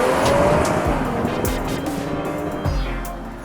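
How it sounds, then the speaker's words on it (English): The V6 engine of a 2021 Audi S5 Sportback rumbles loudly and steadily, a rising revving whine over a rough, broadband roar that eases slightly toward the end, with no talk. "The sound that we're really interested in is the V6 in the hood."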